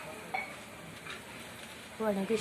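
Dried curry leaves dropped into hot oil with masala for majjige saru give a faint, steady sizzle with light stirring scrapes, swelling into a louder crackle near the end.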